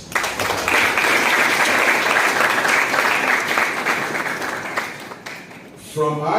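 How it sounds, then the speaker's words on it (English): An audience applauds for alumni and founding members at an engineering alumni homecoming: sustained, dense clapping from a large crowd that holds steady and then tapers off at the end. "Let us give our alumni and the founding members of ESUG an applause."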